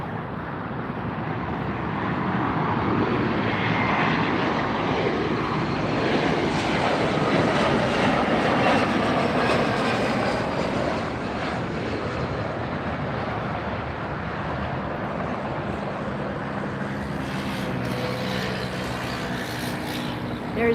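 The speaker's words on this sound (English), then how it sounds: "our next arrival is the Delta Connection E-Jet" A Delta Connection Embraer E-Jet airliner arrives at LAX, its engine roar a steady, broad rumble that swells and holds for about twenty seconds, fairly loud and close, with no voices over it.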